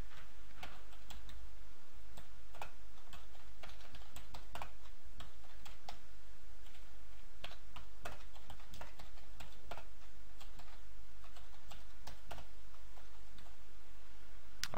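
Someone types code on a computer keyboard, producing irregular bursts of close, crisp key clicks with short pauses between them over a steady background hiss.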